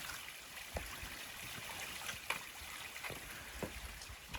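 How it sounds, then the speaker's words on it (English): A small unnamed waterfall spilling away from a rock face at Fairy Stone State Park, Virginia, gives a steady, soft rush of falling water with faint trickling and splashing, heard alone at a moderate distance. "It's an unnamed waterfall."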